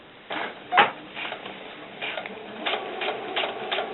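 A sewing machine stitches snakeskin-patterned vinyl for doll boots with a regular needle and presser foot, giving a series of short, close, rhythmic mechanical bursts with brief pauses between runs.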